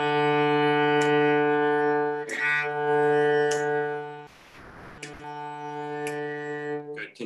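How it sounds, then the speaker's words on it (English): Cello bowing sustained notes, two beats per bow direction, played alone with a clear rich tone; bow changes interrupt it briefly, with a short noisy break near the middle and faint ticks that could be a metronome clicking quarter notes at 60. "So I'm gonna click quarter notes at 60,"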